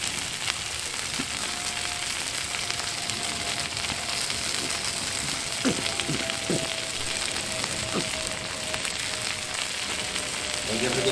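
Sweet Baby Ray's original barbecue sauce sizzling on chicken wings on a Blackstone griddle, a steady loud crackling hiss with occasional scraping clicks and a faint tone running through.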